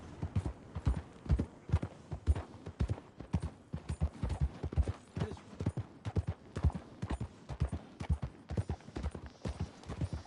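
Horse hooves clip-clopping at a steady trot on a dirt trail in Red Dead Redemption 2, a long run of close, evenly paced beats alone without speech.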